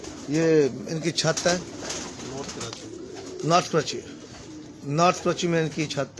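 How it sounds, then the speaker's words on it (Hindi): Large Bajrai pigeons coo on a rooftop in North Karachi, with repeated close, throaty cooing phrases in bursts, alternating with someone talking over them. "इनके कुछ ख़ास कबूतर हैं जो मैंने पहले नहीं देखे।"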